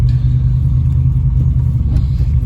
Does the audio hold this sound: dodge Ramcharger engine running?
yes